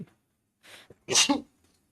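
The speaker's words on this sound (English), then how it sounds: "Oh my god, I can't stop sneezing" A single person sneezes once, sharp and close, preceded by a couple of short sharp breaths, then quiet.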